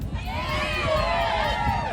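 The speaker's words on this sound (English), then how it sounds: "you should give yourselves one great big round of applause for you" A festival crowd at Elvington Airfield in York cheers and shouts in one continuous, dense roar, with excited voices and whoops close and loud for the whole two seconds.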